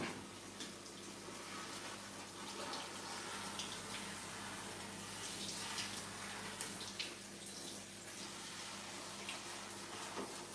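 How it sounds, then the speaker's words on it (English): Tap water runs steadily into a kitchen sink while a mesh strainer holding almond pulp from homemade almond milk is rinsed, a continuous close splashing hiss with no talking. "I am going to rinse off my strainer and come back."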